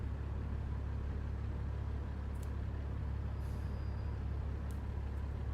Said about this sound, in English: I'm gonna put these heads on real fast just to see how loud my engine is